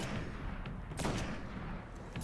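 Cannon fire in a Destiny Nightfall strike against Fallen enemies, several sharp booming shots at uneven intervals with one strong blast standing out amid steady combat noise.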